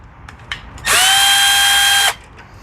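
Whirring burst from a power tool spinning a 3/8 socket to remove the carburetor bolts on a surging lawn mower, one steady run of just over a second, close and loud.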